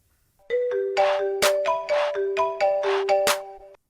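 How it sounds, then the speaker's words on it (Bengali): A phone rings with an incoming video call, a repeating electronic ringtone in a steady melodic pattern of tones, close and loud, sounding alone for several seconds before stopping. "রিং হচ্ছে, রিং হচ্ছে।"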